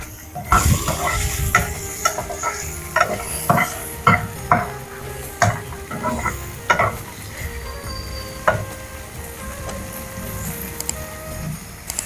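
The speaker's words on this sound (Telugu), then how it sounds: "టమాటా ఇట్లా కొంచెం ఫ్రై కాగానే ఎండుమిర్చి వేయాలి" Tomatoes and dried red chillies fry in a pan with a steady sizzle, while a utensil scrapes and taps in irregular strokes close by, with no talking.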